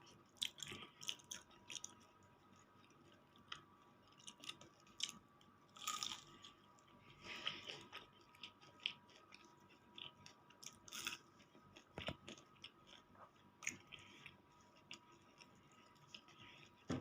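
Crispy Korean fried chicken from Seoul Chon is bitten and chewed up close, producing a quiet run of repeated crunches and crackles with short pauses between bites and no talking.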